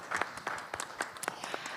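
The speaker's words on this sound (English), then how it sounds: "Let's give him a round of applause" Faint, brief applause for a panel speaker at a media conference. Individual claps stand out sparsely in the quiet room.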